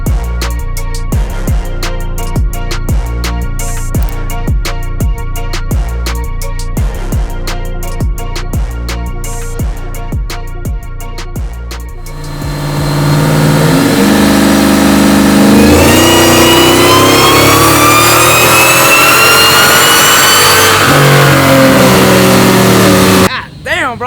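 Supercharged full-bolt-on Ford F-150 truck engine on a dyno, starting with short repeated throttle blips and then building into one long, very loud sustained rev that climbs steadily before cutting off at the end.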